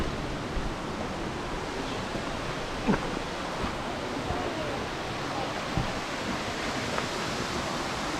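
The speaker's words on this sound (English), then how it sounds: "waterfall. I love water." A waterfall pours in a steady broadband rush, loud and constant, with faint wind buffeting the microphone and a few small knocks.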